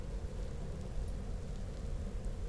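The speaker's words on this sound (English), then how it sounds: "Oh, looks like we got heavy rain now." Heavy rain falling in the Empyrion Galactic Survival game, a steady broadband wash with low rumble, continuous and fairly quiet without talk.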